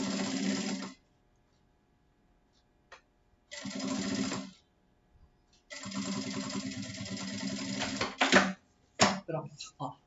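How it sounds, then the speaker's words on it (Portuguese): A sewing machine stitches along the edge of a felt book cover in three close bursts of rapid mechanical chatter separated by pauses, with a few clicks of handling at the end. "Eu venho aqui e vou passar uma costurinha bem na beiradinha aqui."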